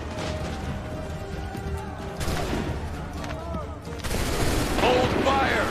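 Musket volleys and scattered gunfire crack through a battle in Assassin's Creed III, with bursts of shots over a dense din and shouted commands.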